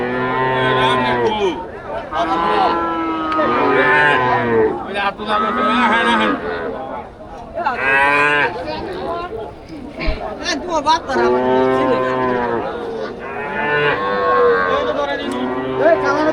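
Several cattle, bulls and heifers, moo loudly and repeatedly at a village cattle market, long drawn-out calls close by, with people chattering in the background between the lows.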